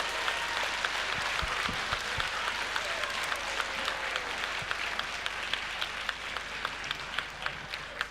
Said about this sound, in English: One more bigger round of applause for Matthew and that group.